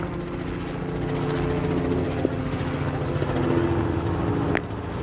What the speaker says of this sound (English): Overhead, you can't see it, but you can probably hear it. They got helicopters.